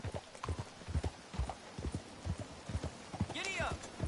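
In the Red Dead Redemption 2 video game, a horse's hooves clip-clop in a steady walking rhythm at moderate distance. A brief whinny comes near the end, and a man's speech is heard faintly alongside.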